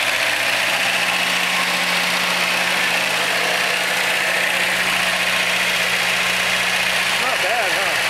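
A 1972 Datsun 521 engine idles after a valve adjustment, carburetor rebuild and tune-up, giving a steady, even low hum with a slight vibration, close by.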